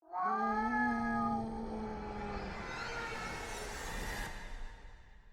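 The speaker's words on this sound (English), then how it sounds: "that creepy familiar cat's meow rings out in the bathroom" A cat meows in the horror game Tsugunohi, a long, drawn-out, eerie yowl inside a bathroom that trails off into a reverberant wash and fades out.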